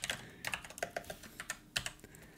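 Close, quiet typing of code on a computer keyboard while setting up SMTP email sending in WordPress, with irregular bursts of crisp key clicks and short pauses between.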